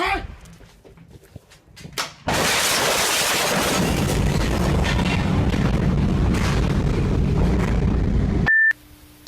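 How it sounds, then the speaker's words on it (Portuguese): A sudden loud explosion in China bursts in after a couple of quiet seconds, its sound arriving after the blast, followed by a long roaring rumble that cuts off abruptly, then a short beep. "dá pra perceber que o som da explosão chegou um pouco depois"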